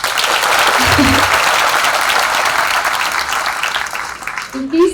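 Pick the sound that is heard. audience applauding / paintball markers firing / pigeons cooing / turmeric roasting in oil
audience applauding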